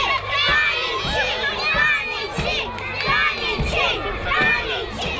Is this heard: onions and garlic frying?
no